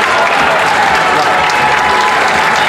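An audience aboard the Showboat Branson Belle breaks into loud, sustained applause after a card trick, a dense unbroken wash of clapping filling the room.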